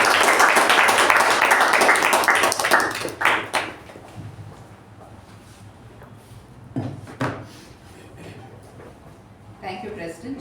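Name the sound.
round of applause welcoming the Toastmaster of the day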